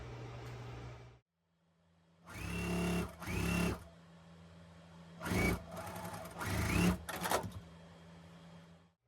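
A sewing machine stitches a quilt strip in several short bursts of rapid mechanical whirring, separated by brief pauses and a soft motor hum, close and clear with no talking.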